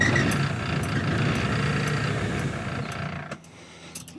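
An electric car fuel pump whirs and hums steadily at close range with faint mechanical ticking, then cuts out near the end, leaving quiet.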